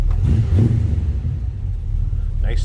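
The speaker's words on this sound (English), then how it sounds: "Nice sounding car." A 1940 Ford Deluxe Coupe street rod idles with a deep, steady low rumble close by, the engine note swelling slightly early on and holding a constant throb throughout.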